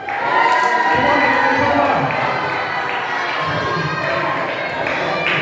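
Children in a crowd cheer and shout for a runner at a vacation Bible school event, a steady loud burst of mixed young voices lasting several seconds, with some thumps underneath.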